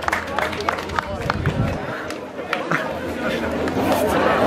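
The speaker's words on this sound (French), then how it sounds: "applaudissements pour Mévin Landerneau, mesdames et messieurs" Spectators at a sprint race applaud and cheer a finisher, with bursts of clapping and crowd chatter mixed under an announcer's voice over loud outdoor ambience.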